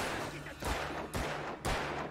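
A hunting rifle fires three loud, evenly spaced shots in the video game Alan Wake, each a sharp blast under a steady background of game ambience.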